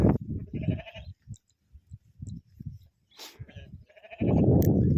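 Young lambs bleat several times in short, wavering cries, with a louder close bleat at the end over a rough background rumble.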